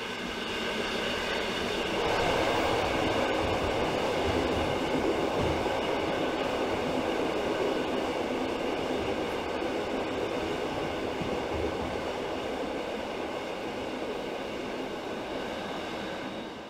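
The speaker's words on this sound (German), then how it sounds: "Wir verfolgen aber die Ausfahrt des Erlebniszuges." A Rhaetian Railway excursion train, hauled by a Ge 4/4 I electric locomotive, pulls out of the station near Trin: a steady, loud rolling rumble with wheel noise that holds constant throughout.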